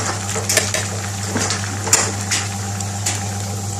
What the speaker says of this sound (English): So the chef is stirring the rice here with a little nice and gently stir